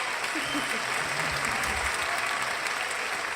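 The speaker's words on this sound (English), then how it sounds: "Oh, you hear a round of applause in the headphones?" A steady round of applause from a crowd, a dense continuous clapping that stays even and fairly close for the whole stretch, with no clear voices over it.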